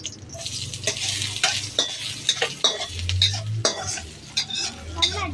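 Onion stir-fried in a pan with curry leaves and coriander leaves, a light sizzle broken by repeated sharp scrapes and clinks of a spoon against the pan, close and rhythmic.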